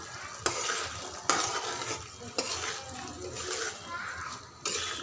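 Potatoes and fish being stir-fried in a pan, with a steady sizzle and sharp scraping strokes of a spatula at irregular intervals, close up and fairly loud with no talking.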